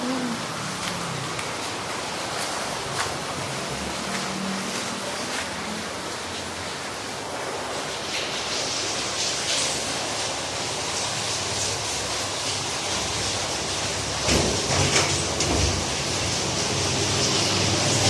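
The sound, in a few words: heavy rain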